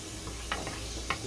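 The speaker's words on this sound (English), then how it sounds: "And I'm gonna throw in some diced onions in there. You can hear the sizzling already." Diced onions sizzling in a hot pan for homemade pasta sauce, a steady crackling hiss with two sharp stirring clicks, close and fairly quiet.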